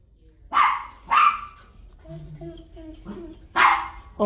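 A shelter dog barks three loud, sharp times, with softer whimpering whines between the barks, close by and largely alone.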